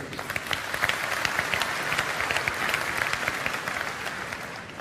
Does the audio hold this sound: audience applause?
yes